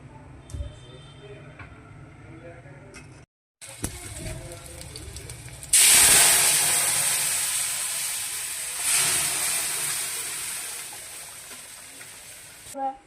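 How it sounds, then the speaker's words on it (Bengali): Taro leaves fry in a pan with onion, garlic and ground mustard seed, giving a loud hiss and sizzle that surges, fades slowly and swells briefly again, with voices and kitchen clatter around it. "পাতাগুলো ভেজে নিচ্ছি।"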